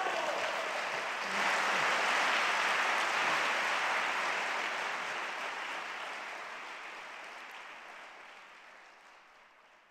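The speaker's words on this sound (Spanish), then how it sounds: "Le damos un aplauso a Dios." Audience applause at a stand-up comedy show, a broad wash of clapping that swells after a second, holds steady, then slowly fades over about ten seconds with no talk on top.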